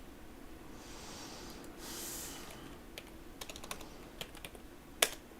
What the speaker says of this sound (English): You'd think I'd have learned to type because typing them in order is kind of important.